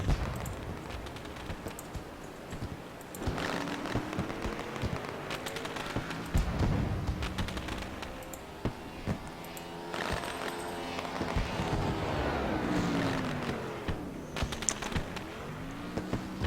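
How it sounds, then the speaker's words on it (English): Fireworks bursting in the background at Daytona in a racing video game, a busy run of sharp pops and crackles mixed with engine noise and crowd din, moderately loud and continuous. "You can hear the fireworks exploding in the background."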